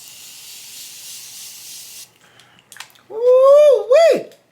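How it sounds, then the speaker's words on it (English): Morphe setting spray misted onto a face, a steady airy hiss for about two seconds, followed by a brief rustle and a loud exclaiming voice. "We're gonna take a little bit of this Morphe spray."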